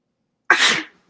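A single sharp sneeze bursts out close and loud, a quick breathy explosion lasting under half a second, then silence.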